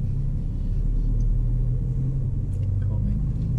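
Car engine rumbling steadily and close during a first driving lesson, low and continuous with a slight rise as the car gathers speed; a voice speaks over it.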